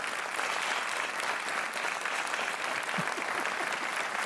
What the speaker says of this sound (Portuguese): Mais um aplauso para a Ana.